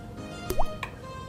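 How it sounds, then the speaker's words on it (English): A golf ball drops into a container of fresh water with a single short, close plop and a brief rising drip-like tone, in an otherwise quiet room. "I'm going to put this golf ball in our fresh water."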